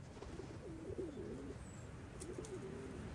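Pigeons coo softly and steadily while being fed corn, a low murmuring flock sound close by, with faint chirps and no talk.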